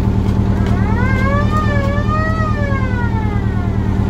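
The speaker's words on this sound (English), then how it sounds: "I bought some cheap siren I found at a flea market" A cheap flea-market siren on a fire truck wails, sweeping up and down steadily over a loud, constant engine drone, close and continuous throughout.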